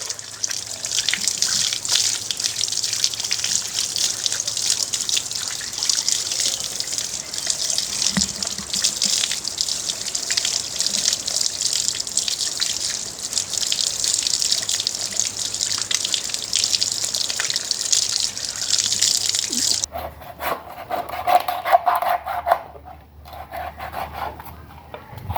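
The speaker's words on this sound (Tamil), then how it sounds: "இந்த நாட்டுக்கோழியை நல்ல வடிவாக நாங்கள் தண்ணியில் கழுவி எடுப்போம்." Water gushes and splashes steadily while a country chicken is rubbed and scrubbed in it, then the flow stops and a few quieter handling sounds follow.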